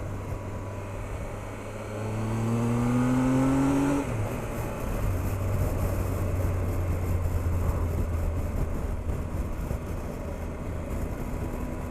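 A 2018 Triumph Tiger 1200 XRX motorcycle engine, still being run in, climbs to about 6,000 RPM with a rising whine, then drops back to a steady, lower drone that runs on under steady wind noise.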